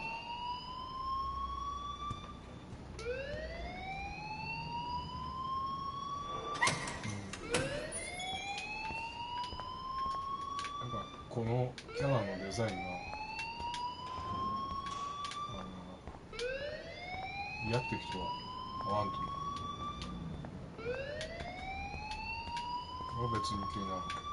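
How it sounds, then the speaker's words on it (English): A school fire alarm blares in the Life is Strange video game, a loud rising electronic wail repeating every few seconds, with people talking over it throughout. "please turn off that alarm since that's your job"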